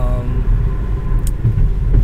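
Steady low rumble of a car's cabin on the road while driving, with continuous engine and tire drone filling the low end and no clear speech, fairly loud and even throughout.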